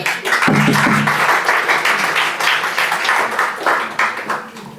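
Hall audience at an Iqbal Academy book launching ceremony clapping for a young speaker: a loud burst of applause that swells and wanes in waves, with a brief murmur near the start.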